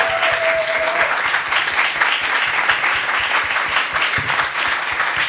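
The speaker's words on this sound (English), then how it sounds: "Please give another round of applause to Khalid." An audience at a Palestinian folk music performance claps steadily and densely, a full, close applause that holds at even loudness throughout without a break.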